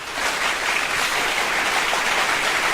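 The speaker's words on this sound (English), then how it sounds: "For you to put your applause Oh, right, okay. thing on" Steady applause from an audience during a talk show, a dense wash of clapping that holds at an even level throughout with no voices over it.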